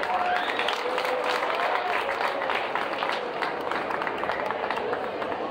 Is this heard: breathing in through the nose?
no